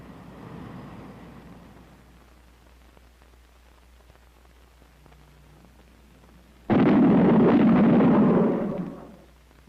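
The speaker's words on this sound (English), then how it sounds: "those bangs were shock waves from an aircraft in transonic flight." Transonic aircraft shock waves strike as a sudden, loud, broad bang-like roar after a quiet stretch. It holds for a couple of seconds, then cuts off, preceded by fainter rumbling.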